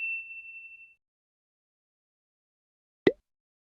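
A single short ding sounds after a brief high tone fades, then silence, followed by one sharp chime.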